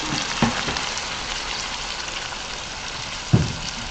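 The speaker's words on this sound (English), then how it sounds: "You don't want our seasoning to burn, but you want to fry more anyway." Seasoning for Jamaican corned beef made from bully beef and vinegar fries in a pan with a steady close sizzle, two brief louder clatters or stirs breaking through near the start and end.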